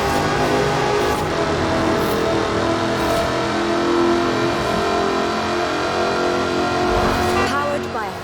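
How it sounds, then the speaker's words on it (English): A 5-litre supercharged V8 with an aluminium body revs hard in Forza Horizon 4, a loud continuous engine roar with rising and falling pitch as it accelerates, while a narrator speaks over it. "Powered by a 5-litre V8 supercharged engine, with a fully aluminium body, it's blisteringly fast"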